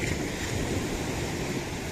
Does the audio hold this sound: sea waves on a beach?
yes